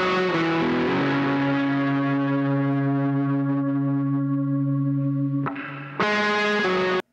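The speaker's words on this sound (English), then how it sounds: "that was recorded with a little bit of effects, like a little bit of reverb and some shimmer I can hear in there" Music recorded through a studio effects rack, with a super plate reverb on the send and a shimmer effect: sustained, layered tones ring out with a long, bright reverb tail, then stop and restart near the end.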